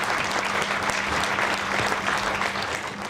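Audience at a community awards ceremony in a marquee applauding, a dense, steady wash of many hands clapping throughout, loud and close with no pauses.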